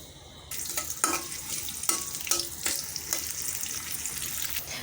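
Onions fry in oil with fenugreek and garam masala in a wok, a close, steady sizzle with scraping stirs and sharp clinks of a spatula against the pan, and no voices.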